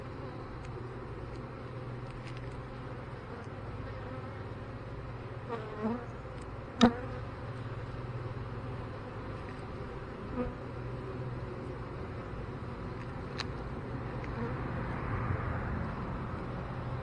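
Honeybees buzz steadily around an open hive during a spring inspection, a dense continuous drone close by with a few louder individual bees passing near and no talking.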